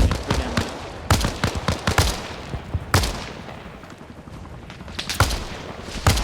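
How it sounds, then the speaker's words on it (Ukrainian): Video game gunfire in a military shooter battle: sharp rifle shots and rapid bursts crack in clusters, some loud and near, others fainter, separated by short lulls of quieter background noise. "Нас, походу, звідти постріляли чи що?"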